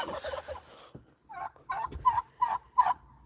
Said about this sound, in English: Look at these turkeys, guys.